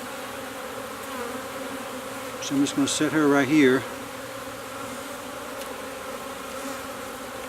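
Package honey bees swarm and buzz around a small queen cage in a steady, close hum, while someone speaks briefly over the droning.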